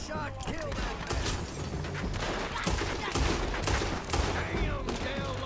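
A rapid, dense volley of gunshots rings out in Red Dead Redemption 2, with overlapping cracks and mechanical clatter continuing steadily throughout.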